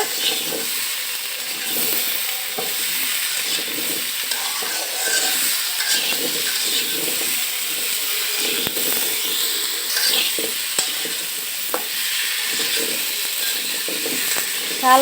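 Turnip and potato pieces sauté in a little oil with salt and turmeric, giving a continuous close hiss and sizzle broken by soft scraping stirs throughout.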